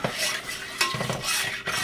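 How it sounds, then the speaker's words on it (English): A spoon stirring fudge mixture in a pot heating toward a boil, with scraping and rubbing strokes against the metal and occasional clinks, loud and close in a steady rhythm. "And I'm going to keep stirring."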